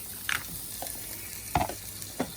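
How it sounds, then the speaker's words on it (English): Butter heating in a frying pan before jerk shrimp go in, a soft continuous sizzle punctuated by a few brief stirring scrapes, close and fairly quiet. "So you put a little butter in your pan, you get that all worked up."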